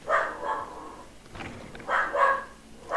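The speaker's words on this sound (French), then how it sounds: "Oh, le chien!" A dog barks in the video game Greedfall, two short bursts of barking about two seconds apart, moderately loud over a quiet background.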